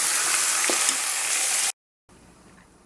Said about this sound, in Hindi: अब हमने इसमें चिकन की लेग डालनी है जो कि हम अपने पुलाव के लिए इस्तेमाल कर रहे हैं। तो इसको डालकर आप अच्छे तरीके से इसको भून लें।